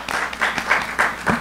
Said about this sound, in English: let me kindly ask you a big applause for Francesca Giuliana chairing this